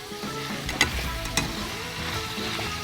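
Onions sizzle and crackle in a nonstick pan over moderate, balanced heat, a steady close frying hiss broken by a couple of sharper pops, with no voices.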